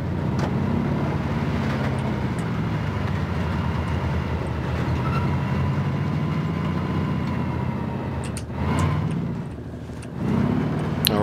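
Steady in-game car engine drone with broadband road noise throughout a drive in a prison-area shooter match, holding a constant loud level with a brief dip and a few sharp transient clanks near the end.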